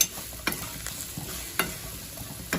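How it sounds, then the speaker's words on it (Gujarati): Leftover-rice muthiya dumplings stirred in a hot pan, with three or four spaced spatula scrapes over a steady low sizzle, close but quiet and without any voices. "હવે આપણે મુઠિયા એડ કરી દઈશું અને સારી રીતના આપણે મિક્સ કરીશું"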